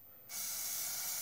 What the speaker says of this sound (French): une fois que je remets des fois un petit coup de bombe